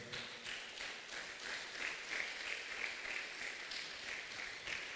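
Congregation clapping in a church during a Sunday communion service, a steady rhythmic wash of applause, faint and somewhat distant, with no clear voices over it.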